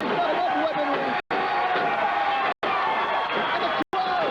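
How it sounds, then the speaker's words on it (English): A TWA professional wrestling crowd erupts in a loud, dense roar of cheering and shouting that runs continuously, broken by three short cuts. "the crowd erupts as Dusty Credible lays into Venom"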